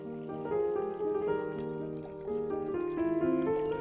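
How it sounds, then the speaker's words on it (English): Dyed wool being rinsed by hand in a basin of water, with soft pouring and sloshing sounds that rise and fall in short bursts, close and fairly quiet. "keep rinsing it and keep cooling the water until the water runs clear when we pick it up"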